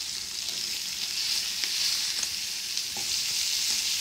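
Mutton chops frying in oil in a frying pan give a continuous bright hissing sizzle, close and even throughout, with a few soft clicks of the pan and no talking.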